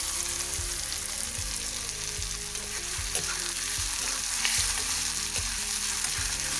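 Onions sizzle steadily in hot mustard oil for an Assamese raw fish curry, a constant bright crackle with soft, regular thumps of stirring throughout.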